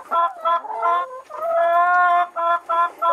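Laying hens in a circular henhouse on an organic egg farm cluck and squawk loudly at close range in quick overlapping bursts, with one long drawn-out call in the middle.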